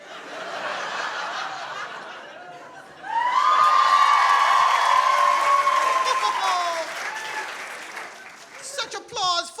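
An audience at a live staged comedy show applauds, first moderately, then swelling loud and dense with cheers and laughter before tapering off with scattered claps.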